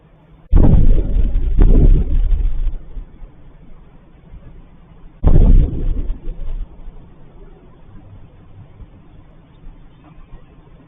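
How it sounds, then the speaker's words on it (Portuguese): Explosions in a Russian town at night, two heavy booming blasts a few seconds apart, each rumbling and fading into a low, distant background. "Dá para ver dá para ouvir várias explosões aqui no caso, né?"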